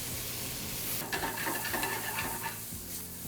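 Double smoked applewood bacon with peppers and onions sizzles steadily in a pan, a dense frying hiss broken by the scrape and clatter of stirring.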